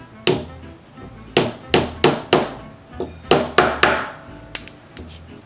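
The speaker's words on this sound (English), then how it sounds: "I'm gonna get my hammer out and just hammer it" Sharp metallic hammer strikes on sterling silver being shaped into a dome for earrings, about a dozen, close and ringing, in uneven bursts with short pauses between.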